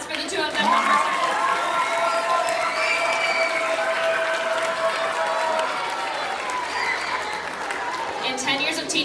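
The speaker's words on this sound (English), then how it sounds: "Can we get a round of applause for the two of them one more time?" Round of applause at an eighth-grade school concert, steady sustained clapping from a crowd mixed with cheering and children's shouts, with voices talking throughout.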